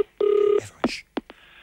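A telephone in a comedy sketch sounds a sustained dial tone, then gives a few short sharp clicks and ring-like blips, heard alone without talk.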